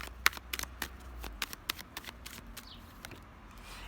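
Tarot cards handled and laid down on a spread, a string of light crisp taps and card snaps in an uneven rhythm, close and fairly quiet.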